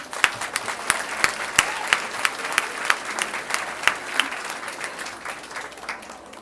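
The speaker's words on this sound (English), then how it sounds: "So, a round of applause for our high school." An audience applauds high school award winners at a 2014 pastel art exhibition awards ceremony, a steady mid-distance wash of clapping with sharper individual claps popping out, sustained throughout without talk.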